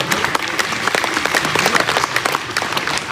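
Audience clapping along during a devotional kirtan at a Hindu religious discourse, dense rhythmic hand claps from a sizeable crowd, steady and fairly loud throughout without speech.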